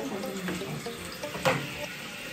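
Water runs from a tap steadily into a basin during a cat's bath with baby shampoo, with splashing bursts and a louder gush partway through.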